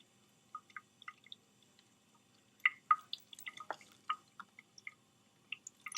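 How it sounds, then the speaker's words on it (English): Water rinsing iodine off a Gram stain slide in a lab: faint, scattered drips and small splashes, irregular and close, with a denser cluster midway. "we'll rinse it a little bit to try to get some of that iodine off"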